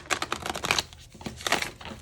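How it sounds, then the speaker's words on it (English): Oracle cards being shuffled by hand, a quick run of crisp papery riffles and flicks in short bursts with a brief pause midway, close and fairly quiet with no talking. "I'm going to be shuffling some oracle cards as I speak on these next parts"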